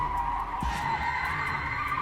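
A car skids to a stop with a loud, continuous tire squeal that holds steady for about two seconds over a low rumble.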